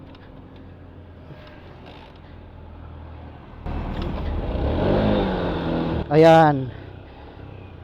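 A stalled motorcycle with loose compression is kickstarted with the throttle held open. Quiet at first, the engine catches into a rising, loud rumble and then a sharp rev that climbs and falls, with a brief spoken word.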